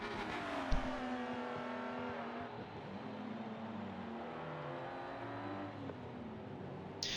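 Race cars in a sim racing game on a Dubai circuit, engines rising and falling through gear changes as cars pass, with a steady, moderately loud whine, a sharp knock near the start and a brief tire squeal near the end.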